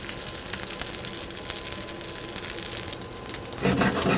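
A halved onion sears cut side down in hot fat in a pan, giving a steady close sizzle throughout that swells to a louder burst near the end.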